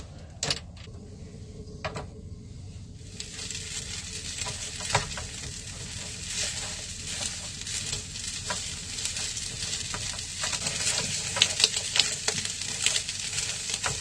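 Convenience-store lunchbox rice with bean sprouts, kimchi, pan-fried patties and beef stir-fried in a pan outdoors at night, a steady close sizzle rising in intensity with scattered scraping and clicks of utensils.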